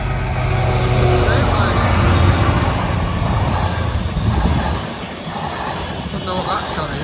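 A train passes the Norwell Lane level crossing, a loud, broad rumble and rolling clatter that builds, then eases and fades toward the end.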